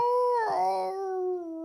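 A man imitates a dog howling with his voice, a single drawn-out wavering howl that bends upward and then slides down, loud and close, with no other talk.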